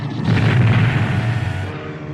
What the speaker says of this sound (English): C-3PO watched as one of the Droid World cannons aimed at them and fired.